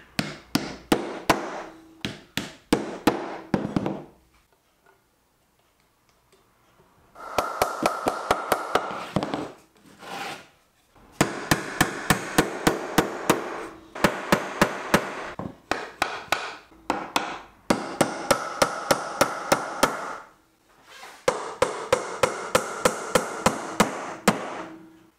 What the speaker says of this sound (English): Then I glue in all of the dominoes and pull together each of the panels with some help from Timmy Mallet.